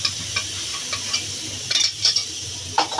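Semolina mixed with mango puree being stirred in a pan for a mango semolina sweet, a low simmering sizzle with soft, irregular scraping strokes of a spoon through the thick mixture, close and alone.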